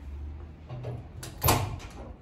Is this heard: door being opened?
yes